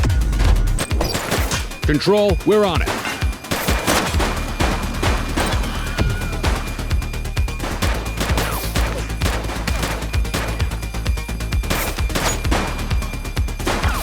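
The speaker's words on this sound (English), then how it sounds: "Gunshot!" Video game gunfire in The Precinct, a police game, rings out as a rapid volley of sharp shots early on, followed by a continuing rattle of repeated bursts, loud and close, with a radio-style voice speaking briefly.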